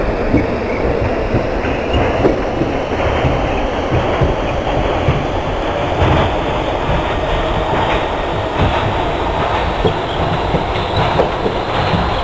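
A New Jersey bound Q local subway train runs on the NYCTA line in the OpenBVE train simulator, with a loud, continuous rumble, rhythmic clickety-clack of the wheels and faint squeal, and no talk over it.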